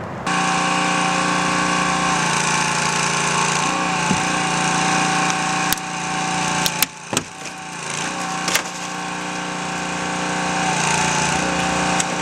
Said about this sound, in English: So our next step now is to cut the top of the B-post and swing it all out.